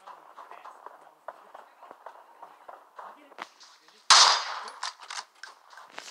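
Video game gunfire: soft, low murmuring sounds lead up to one loud, sharp gunshot blast partway through, followed by a few fainter reports.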